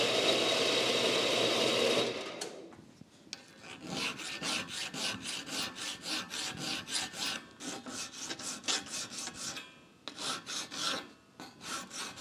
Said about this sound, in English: We'll cut this in the bandsaw now